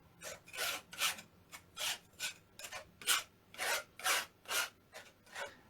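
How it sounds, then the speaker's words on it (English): Scraping of paint across canvas during a live painting session, roughly a dozen rhythmic close strokes in a steady back-and-forth pattern, each a bright rasping burst separated by short pauses, with no talk. "I like to leave that scraping sound on right at the start"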